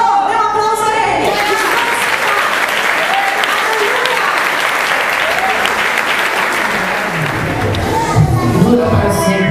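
A church congregation applauds in worship, a loud, steady wash of clapping that fills the room, with some voices and cheers mixed in throughout.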